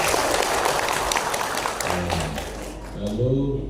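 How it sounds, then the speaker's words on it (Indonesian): A room of teachers at a regional education gathering applauds one district's group, a dense wash of clapping that fades under a presenter's voice near the end. "Tepuk tangan untuk Rote."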